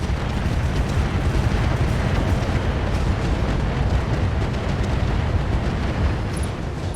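Artillery firing in the mech video game Roguetech, a loud, continuous rumbling barrage of explosive booms that stays dense and unbroken throughout, with no voices over it.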